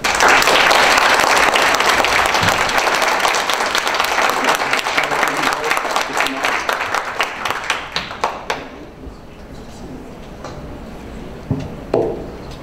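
An audience at a county commissioner district debate in Forsyth County, Georgia gives the candidates a loud round of applause that thins into scattered individual claps after about eight seconds, with a few last claps near the end.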